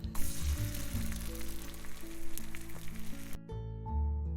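Food frying in a pan in a children's cooking story, steady close sizzling with crackling that runs under light background music and then stops abruptly near the end.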